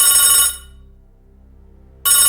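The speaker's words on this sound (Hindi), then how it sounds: "शाम के 5 बजे उसके फोन पर एक कॉल आती है।" A telephone rings with an incoming call, a bright electronic ring burst that stops and then starts again after a short pause, loud and close, with no voices.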